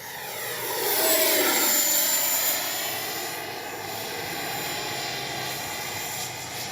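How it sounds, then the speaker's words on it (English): An FMS 80 mm F-86 RC model jet whines past, its engine swelling to a peak and then fading into a steady distant hiss with a high-pitched tone. "Man, what a great flying plane."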